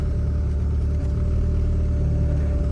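A turbocharged Honda Integra with no windshield and a slight oil leak driving back into a shop, its engine giving a steady, loud, low rumble with a constant drone throughout and no speech.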